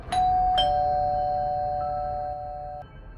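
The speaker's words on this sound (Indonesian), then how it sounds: "Setelah sampai di depan rumah Denny, aku kemudian menekan bel." A doorbell rings at the front of a house, two quick chiming strikes followed by a long sustained tone that slowly fades, clear and alone.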